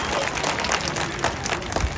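An audience at a West Midland Safari Park show claps and cheers in a brief, loud, dense burst of applause.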